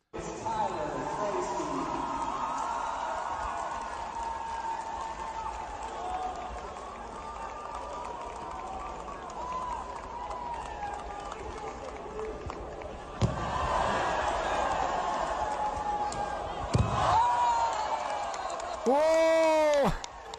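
A wrestling match crowd chatters and stirs throughout, with occasional slams and swelling noise rising near the end, while someone talks over it.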